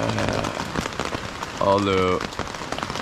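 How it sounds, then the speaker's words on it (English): Heavy rain pours steadily outside a tent on a river expedition, a dense close patter throughout, with a voice briefly speaking over it. "it's pouring rain outside right now"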